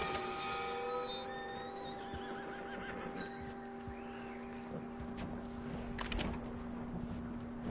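A horse whinnies in the video game Red Dead Redemption 2, with hoof clip-clops and faint ambient tones beneath; quiet overall with no talking.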